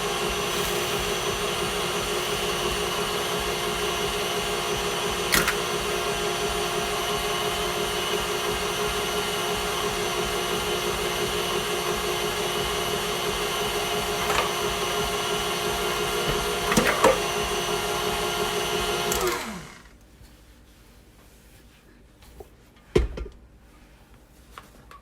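An electric mixer beats very thick pound cake batter in a steady, loud, continuous whir with occasional knocks against the bowl, then shuts off near the end, leaving quiet room noise and a few light clatters.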